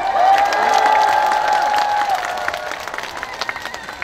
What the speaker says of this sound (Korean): 저희 군수님 박수 한번 주세요.